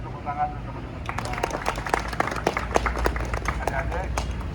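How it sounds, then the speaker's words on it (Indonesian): Applause for colleagues at a Finance Ministry regional customs office morning gathering: a burst of scattered clapping from a modest group starts after brief talk and continues steadily, mid-distance. "tepuk tangan untuk teman-teman"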